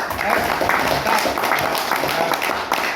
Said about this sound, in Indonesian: Aplaus buat Talim.